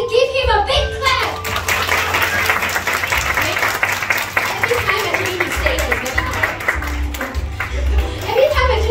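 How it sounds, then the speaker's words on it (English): An audience claps for a young boy after his piano performance, a steady crowd applause that holds at a fairly loud level, with a voice and other voices talking underneath. "Can you give him a big clap?"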